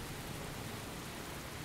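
Steady rain hiss from the video game Heavy Rain, an even, continuous wash of noise at low level with no voices.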